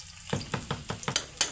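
Ground meat sizzling and frying in a pan with chayote, with a steady hiss and a run of rhythmic scraping stirs about every quarter second, close and moderately quiet.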